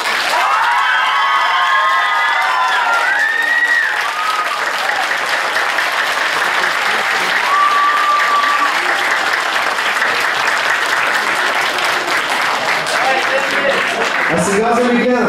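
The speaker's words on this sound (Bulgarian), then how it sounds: "А сега ние чуем аплодисментите на публиката за Стилян." An audience applauding a finalist in a live competition, sustained loud clapping with some cheers and shouts throughout, and a voice breaking in near the end.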